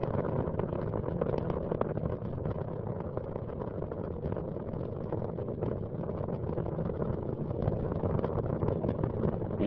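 Space Shuttle Atlantis on STS-115 in 2006 climbs away from Kennedy Space Center as its engines throttle back up through maximum dynamic pressure, heard from a port solid rocket booster camera as a loud, unbroken, wind-blasted roar.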